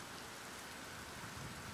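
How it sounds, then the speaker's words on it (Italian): Steady rain pours down in the survival game Raft, first rainfall at sea, a dense even hiss with no breaks, fairly quiet and constant throughout. "Sta piovendo, ragazzi, per la prima volta, guardate!"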